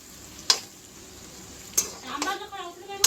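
Onions and potatoes fry in a pan for aloo kurma, a soft steady sizzle under a few sharp clinks and scrapes of a spoon stirring against the pan.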